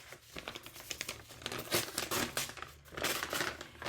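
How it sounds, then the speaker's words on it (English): Sheet of paper set down and handled on a crafting surface before acrylic scratch art, crinkling and rustling in several bursts across the few seconds, close and fairly loud, with no talking. "I'm going to just put a little piece of paper down"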